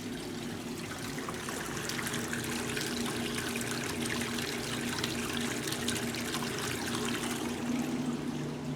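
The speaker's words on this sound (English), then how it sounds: "It's draining out, out, out." Water drains steadily out of a pump and hose, a continuous trickling, splashing flow that stays even and fairly close throughout, with no voices.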